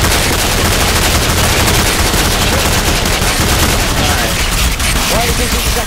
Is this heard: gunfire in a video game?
yes